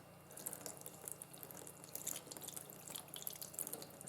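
Faint running tap water patters and drips while an egg, stained from soaking in Coca-Cola, is rinsed under the faucet; soft, steady and close, with no voices.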